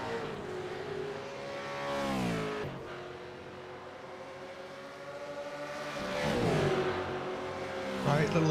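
V8 Supercars racing side by side at Le Mans, engines rising and falling in pitch as the cars accelerate and shift, with commentary running over the engine noise.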